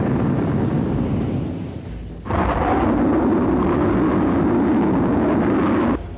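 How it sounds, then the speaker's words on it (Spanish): A loud, sustained roar of a Super Etendard jet sweeping in on a bombing run against a ship, swelling abruptly into a heavy rumbling blast that holds steady before cutting off. "Cuando el barco está en la mira, el piloto suelta las bombas y la grabación termina."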